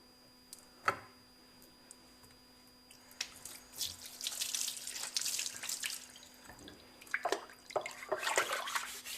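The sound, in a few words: rainwater running through a filter system tap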